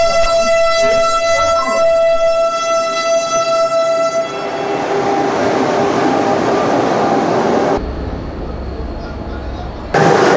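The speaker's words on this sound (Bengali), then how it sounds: "এই ট্রেন চলে যাচ্ছে" A train passes at Gaya station with a loud, sustained horn blast first, then a rising rumble and clatter of wagons rolling close by, cutting off sharply near the end.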